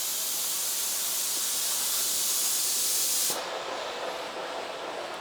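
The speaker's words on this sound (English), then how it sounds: "And of course with this, we can spray it down." A Shark Steam Blaster sprays a loud continuous hiss of steam onto a floor for about three seconds, then cuts off, leaving a quieter softer hiss and background noise.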